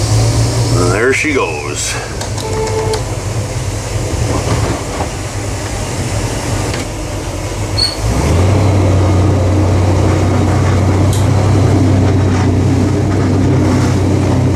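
Boat engine throttling up in reverse during a launch, a deep motor rumble that swells louder partway through and then holds steady, close by, with someone talking briefly over it.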